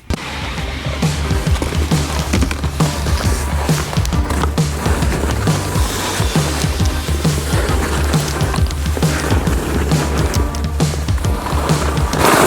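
Skis carve down a snowy slope at Drahobrat in the Carpathians in March, with a steady, loud rush of snow and wind noise and scraping edge sounds running continuously and close throughout.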